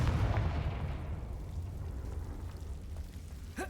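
A Confringo explosive spell fires in the Hogwarts Legacy video game, a loud booming burst that decays into a rumbling, crackling tail, with a brief sharp whoosh near the end.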